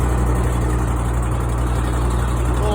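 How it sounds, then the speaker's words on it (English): An Agrivac 4510 engine idles steadily at close range, a dense continuous low rumble with no change in pitch or loudness and no voices. "engine running at an idle"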